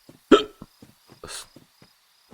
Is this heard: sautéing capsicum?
no